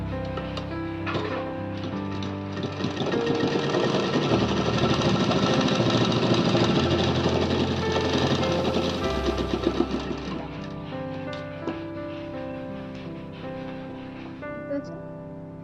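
A sewing machine stitches a hook strip onto the back of a blouse, running steadily and fairly loudly for about fifteen seconds with a dense mechanical whir, easing slightly toward the end.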